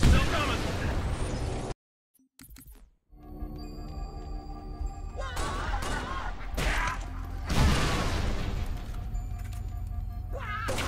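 Artillery explosions from the video game Halo Reach boom in bursts amid game radio chatter, with a brief drop to silence before rumbling blasts and further booming impacts return.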